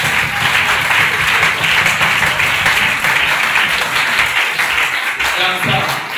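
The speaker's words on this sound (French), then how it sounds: "Acclamez pour la gloire de Dieu" A church congregation applauds in a sustained, loud wave of clapping that fills the whole stretch, with voices and cheers mixed into the dense crowd noise.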